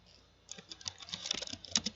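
Typing on a laptop keyboard while entering switch configuration commands in a networking lab, starting after a quiet half second and then a fast, uneven stream of close, crisp key clicks.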